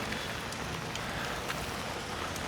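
Rain falling in Omis, Croatia, a steady hiss of drops pattering on surfaces with a few sharper taps, even and moderately quiet.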